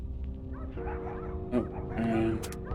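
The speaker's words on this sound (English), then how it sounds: "the dogs are barking again" Dogs bark and whimper in a few short, close yips, mixed with light talking in a room while a game plays.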